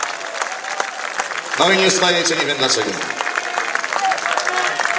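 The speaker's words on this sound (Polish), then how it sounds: "Wielkie brawa!" Crowd applauding at a beach volleyball bronze-medal match between Germany and the USA in Mysłowice, steady clapping swelling loudly midway and continuing under an announcer's voice over the PA.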